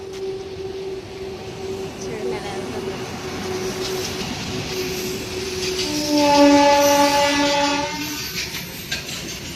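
At a railway station, a train sounds long horn blasts and rolls past with rumbling and clatter, rising louder midway, while people nearby talk over it.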